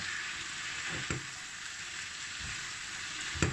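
Steady, moderate sizzling of zucchini sautéing over low heat in a covered pot, with a couple of brief clinks or stirring knocks.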